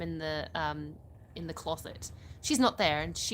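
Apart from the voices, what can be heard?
No distinct noise like a dog, phone or traffic.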